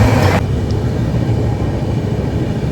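An Indian passenger train travelling from NJP to Sealdah rumbles loudly from inside the carriage, a constant heavy roar with a brief brighter rush at the very start.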